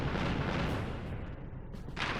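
Turret gunfire from the Ratchet & Clank video game, a dense, sustained roar of rapid shots and booms that stays loud throughout, with a brief dip in the middle.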